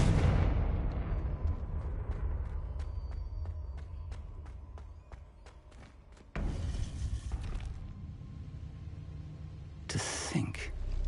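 A Confringo blasting spell explodes in Hogwarts Legacy with a loud opening blast, followed by a run of sharp ticking impacts. Two more bursts of noise come later, with game music sounding underneath throughout.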